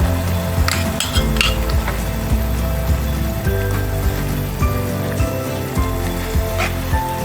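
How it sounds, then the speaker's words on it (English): A utensil stirs thickened fish pie filling in a pot with minced fish, making repeated close scraping and clinking strokes against the pan over a steady cooking background. "You have to mix it very well."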